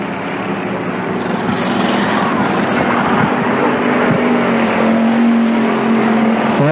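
Thunder Car class race cars roar around the Tri City Raceway oval, a dense, loud, continuous engine drone with one engine note rising and holding toward the end.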